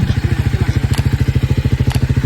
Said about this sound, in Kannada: ಗಾಡಿ ಆನ್ ಮಾಡು.